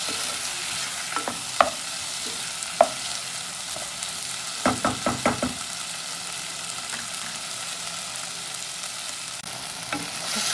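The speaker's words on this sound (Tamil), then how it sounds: "இதுக்குள்ள நாங்கள் தக்காளி பழத்தை போடுவோம். போட்டு நல்லா வதக்குவோம்." Tomatoes sautéing in a pan for tamarind curry, a steady close sizzle broken by a few sharp taps and a quick cluster of spoon scrapes midway.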